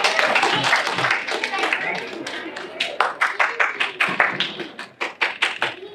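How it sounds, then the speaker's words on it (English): Audience at a ventriloquist show claps, first as a dense burst of many hands and then as scattered, sharper individual claps, with some voices mixed in. "Give a big clap for him."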